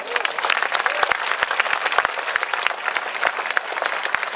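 A roaring crowd applauds and cheers continuously at a Tour de Yorkshire 2019 event in Leeds, dense clapping with shouts mixed in, loud and sustained throughout.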